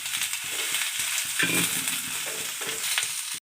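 Onion frying in oil in a pan while masala is roasted for a Maharashtrian suran kalvan, a loud continuous sizzle broken by rhythmic stirring scrapes, with no talking.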